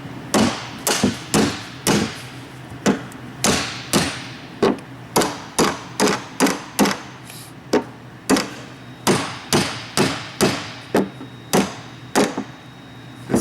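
Repeated hammer blows drive a press-fit part into a Nauticraft boat drive unit during assembly, roughly two dozen sharp, loud knocks in an uneven rhythm with short pauses, close by and alone with no talking.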